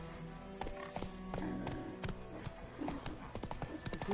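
Hooves of Roach, the horse in The Witcher 3, clop in a quick irregular rhythm close by, with faint low chatter in the background.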